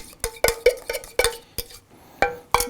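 A cream and flour mix being added to potato soup in a pot, giving a run of close, sharp clinks and taps of a utensil against the pot in an uneven rhythm, with no talking.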